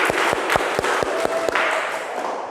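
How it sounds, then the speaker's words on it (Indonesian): A classroom group claps for the first presenting team, a dense burst of applause from several pairs of hands with a few sharp claps standing out, steady and close for a couple of seconds before tapering off. "Beri aplaus untuk kelompok 1."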